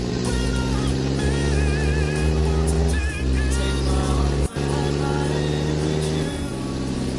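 A car engine drones steadily throughout at close range, a loud, even hum with slight shifts in pitch as the vehicle drives, interrupted briefly by a couple of sharp knocks.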